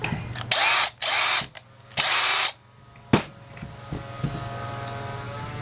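A repaired Ridgid 1/2-inch cordless impact wrench is triggered in two loud whirring bursts, followed by a few sharp clicks and knocks as it is handled nearby.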